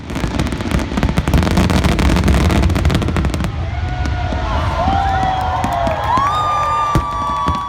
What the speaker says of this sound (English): the Casino Lac Les Amis presents 5 different fireworks shows over the Ottawa River